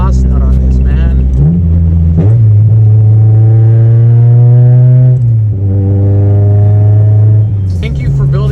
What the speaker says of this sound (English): I just love the exhaust nut on this, man.